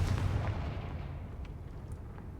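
A Confringo spell blast in the video game Hogwarts Legacy, a heavy booming explosion at the start that rumbles and fades over a couple of seconds, loud and close with no talk.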